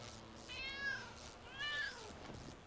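Cat meowing in the Lego City Undercover video game, two clear rising-and-falling meows about a second apart, fairly close and alone over a quiet background.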